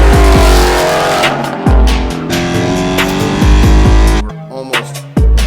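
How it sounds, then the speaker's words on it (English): A straight-piped Ford Mustang GT with a quiet-start mode sits close by, its loud V8 blips, revs and drops back repeatedly, ending with a brief cut and a final sharp rev. "we're going to see what a straight piped Mustang sounds like with quiet start"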